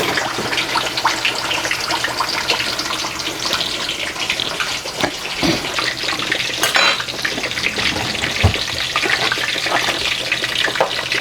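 Fish sizzles in hot frying oil for Senegalese yassa with a steady, loud crackle. Occasional clinks of utensils sound close by.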